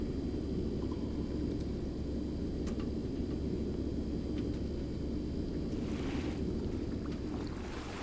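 Constant water ambience in the horror game The Backrooms, a dense, steady low rushing wash with faint scattered clicks and no talk.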